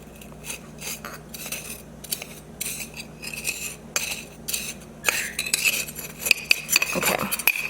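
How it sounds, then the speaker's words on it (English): A spoon stirs coffee in a glass, giving repeated close clinks and scraping taps in irregular bursts, growing busier and louder toward the end. "Probably not with all the glass clinking around."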